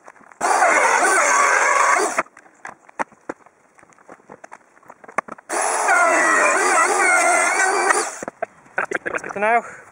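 A power tool cuts wood for a bee hive in two long, loud, steady whining runs, with quieter clatter, handling noises and a brief shriek between them.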